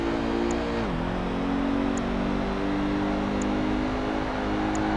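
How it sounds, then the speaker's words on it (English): A race car engine held at full throttle in Project Gotham Racing 2 coupe series, a steady loud drone with a brief pitch dip as it shifts, then sustained high revs, with no talking. "full throttle all of the time, pedal to the metal"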